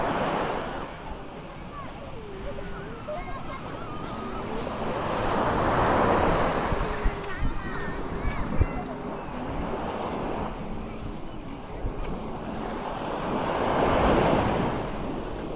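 Ocean waves wash onto a tropical beach where children play at sunset, surges swelling and fading in slow cycles over steady wind noise, with faint voices talking in the background.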